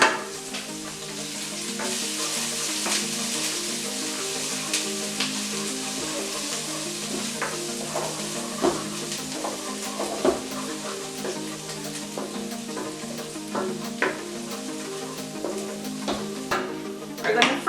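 Garlic and ginger sauté in a hot pan, a steady close sizzle with frequent scraping and stirring clicks running throughout, with no talking.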